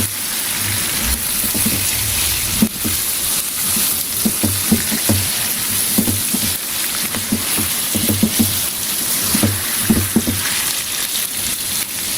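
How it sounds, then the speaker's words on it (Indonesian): Chicken stir-fried in cooked spice paste sizzles steadily in a pan, a loud continuous crackling hiss with scattered pops and occasional knocks of stirring, no talking. "Setelah bumbunya matang, lalu masukkan ayamnya, aduk-aduk sampai tercampur merata dengan bumbu."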